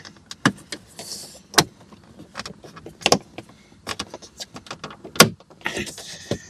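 A plastic steering column cover on a 2007–2014 Ford Expedition snaps into place with a series of sharp, close clicks and small plastic rattles spread across several seconds.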